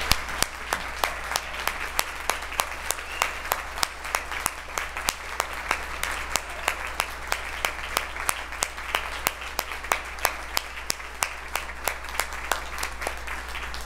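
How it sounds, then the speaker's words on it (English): A church annual meeting audience claps to thank the staff, with a steady patter of hands and a few sharp, close claps standing out in a regular rhythm over a low background hum. "can you please just give a round of applause to thank our staff"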